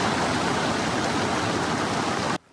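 Heavy downpour during storms in Nantou's Xinyi Township, Taiwan, where landslides struck: a dense, steady roar of rain fills the whole clip at close range, then cuts off abruptly near the end.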